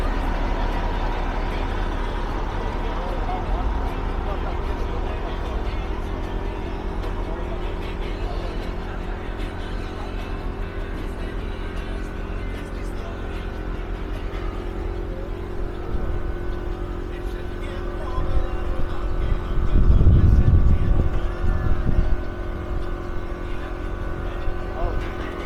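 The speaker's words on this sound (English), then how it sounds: "Hard to hear because there's a generator right by us" A generator runs close by on a street in old San Juan, Puerto Rico, giving a steady, loud mechanical drone. It swells near the end while people talk over it.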